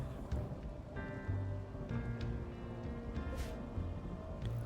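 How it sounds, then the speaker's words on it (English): Steady rain falls in a video game with a soft hiss and scattered droplet patter, mixed with faint tonal background sounds and occasional brief clicks. "We'll let the rain clean this up"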